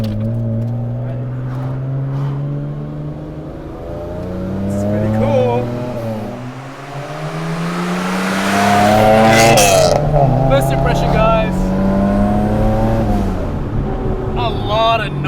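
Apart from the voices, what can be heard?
Nissan R31 Skyline RB30 engine accelerating while driving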